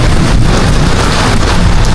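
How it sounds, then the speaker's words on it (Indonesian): Heavy rain pours down in a dense, loud, unbroken hiss close by. "sementara untuk hujan ini masih tinggi"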